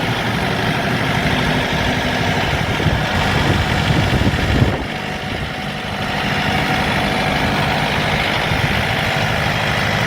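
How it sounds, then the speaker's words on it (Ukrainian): A Shifeng 404 40-horsepower mini tractor engine runs steadily and loudly throughout, with a low rumbling drone and a brief shift in tone midway. "Отак от, от прямує до свого власника такий тракторець."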